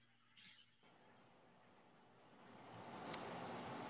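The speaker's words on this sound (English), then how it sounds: "You just click on it to move it around." Computer mouse clicks in a quiet room: a quick double click near the start, then a single faint click about three seconds later, over low background hiss.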